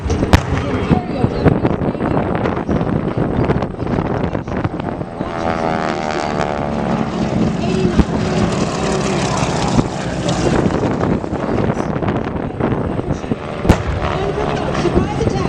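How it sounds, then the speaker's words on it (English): Propeller warplane engines roar continuously in a Pearl Harbor attack reenactment at the 2025 Quad City Airshow, loud and droning from a distance, with a narrator talking over them throughout. "Experience the roar of the engines and the sound of the bombs."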